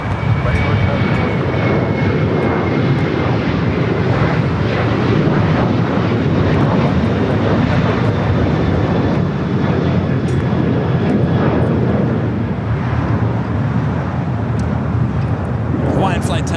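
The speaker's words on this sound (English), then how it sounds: "Hawaiian Flight 10 at the flight committed from Honolulu, A330." A Hawaiian Airlines A330 widebody arriving from Honolulu at Los Angeles airport, a loud, sustained jet engine roar with a faint descending whine, while people talk over it.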